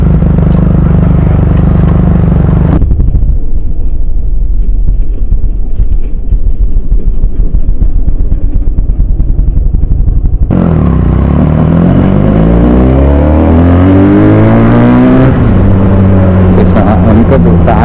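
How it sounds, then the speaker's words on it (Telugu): A Benelli 300i motorcycle with an SC Project exhaust ridden around Hanamkonda, Warangal and Kazipet, its loud engine note rising and falling through revs and gear changes, with heavy wind rush in the middle stretch. "కానీ కాన్స్టెంట్ ఒక ప్లేస్లో నిల్చొని ఉన్న వాళ్ళకి ఇంకెక్కువ వినిపిస్తుంది బైక్ సౌండ్"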